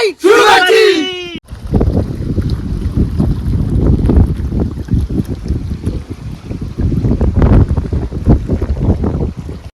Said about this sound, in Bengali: ঝড়ের মতো ন্যাচারাল হাওয়া একদম